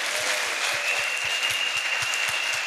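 A church congregation at a salvation, healing and deliverance crusade in Bafoussam claps in acclaim of Jesus Christ, a steady dense applause with sharp rhythmic beats and a faint sustained tone above it.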